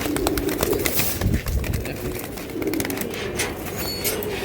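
Pigeons at a pigeon market cooing in low repeated throaty calls close by, layered over a busy background of wing flutters, shuffling and faint crowd murmur, with voices talking at times.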